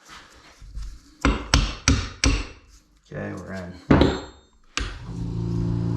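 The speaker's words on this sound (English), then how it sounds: "you can actually tap it in with a brass hammer" Close, sharp metallic taps of a brass hammer seating a balancer into a Suzuki DRZ400 engine during a rebuild, about five distinct strikes in a loose series, with a brief spoken remark between them.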